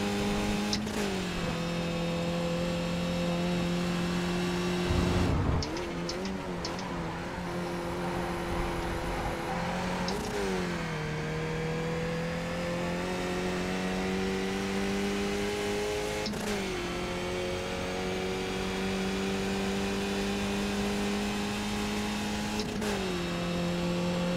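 A race car lapping the Silverstone circuit, its engine droning loudly and continuously up through the gears with repeated shifts and brief lifts, heard close from onboard with no talking.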